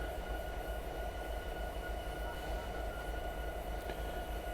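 Locomotive running in Train Simulator 2022, a steady, loud low rumble with a constant mechanical drone and faint high tonal whine, continuous and unbroken throughout.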